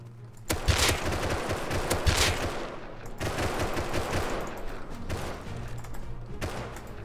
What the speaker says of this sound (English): Ignoring the raw, constant gunshots outside, I'm just kind of going to continue going about my day in here.